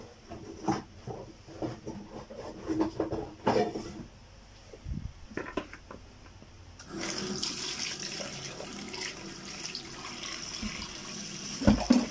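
Fish rinsed by hand under a running kitchen tap, with intermittent splashing and handling at first, then a steady rush of water into the sink, close and without talk.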